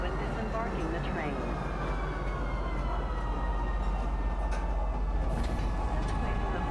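A train rolls in to a spaceport station platform inside a video game, a continuous low rumble with steady rising tones over a constant hum and faint talk throughout.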